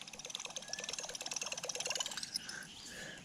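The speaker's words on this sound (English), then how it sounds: "we put on the old diesel engine" An old Cummins-style diesel boat engine running on a creek chugs quietly in a fast, steady pulse for about two seconds, then fades into softer background noise.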